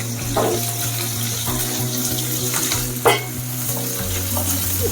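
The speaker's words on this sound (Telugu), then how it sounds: "ఉల్లిపాయ వేయగానే మంచిగా వేగుతుంది" Chopped onions and green chillies fry in oil in a pan for a bitter gourd masala fry. A continuous close sizzle runs throughout, broken by occasional stirring clatters and one sharper knock, with no talking.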